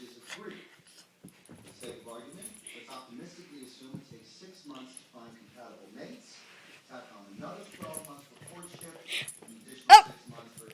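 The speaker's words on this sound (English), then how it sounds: "is barking in the background because he wants to play fetch with him" A dog eager to play fetch gives a single sharp bark near the end, heard over soft, intermittent talk and fainter canine noises in the background.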